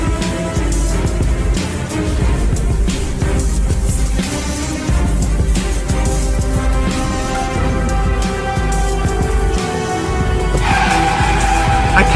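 Gordon, a cartoon steam engine whose brakes have failed, skidding loudly with a sustained grinding squeal that runs continuously and rises in pitch toward the end.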